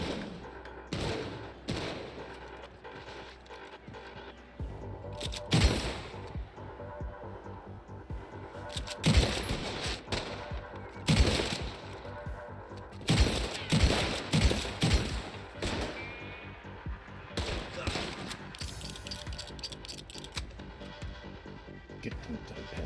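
Gunfire in a Wild West roleplay video game: repeated sharp shots and rapid volleys crack out across the whole stretch, some loud and close, others scattered and fainter, with a low constant hum underneath and no talking.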